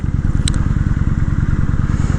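A 2014 Kawasaki Vulcan 900 Custom motorcycle engine runs loud and close, with a strained, vibrating, fast-pulsing drone at high revs and a brief clack partway through.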